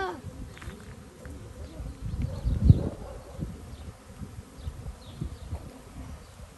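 Swarm of honeybees buzzing around a hive entrance in a shared garden, a steady, dense outdoor hum with passing individual bees growing louder for a moment, moderately close.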